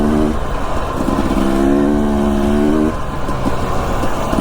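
Dirt motorcycle riding an Idaho single track trail, its engine droning loudly and close with shifting revs and rushing wind noise.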